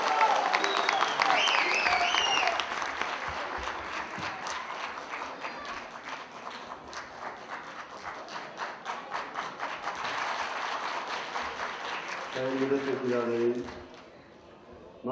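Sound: applause

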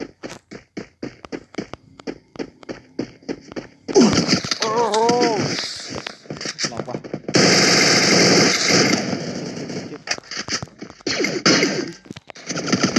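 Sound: gunfire in the video game Free Fire

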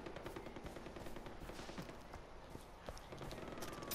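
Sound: gunshots fired in the air in video game Far Cry 4

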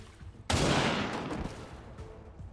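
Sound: gunfire in the video game XCOM 2

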